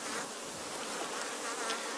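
A dense, steady buzz of many honey bees humming together in beekeeping hives, close and continuous, with no talking.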